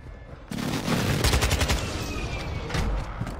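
Loud bursts of video game gunfire with rapid automatic shots and a heavier blast, dense and close for a few seconds with no speech.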